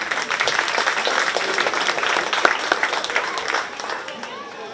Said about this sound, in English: Let's give all 5 of them a nice round of applause.